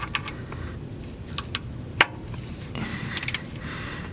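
Ratchet tightening the oil drain bolt on a Ford Fusion, heard as a few sparse, faint clicks and one sharper snap over low garage background, with no talking.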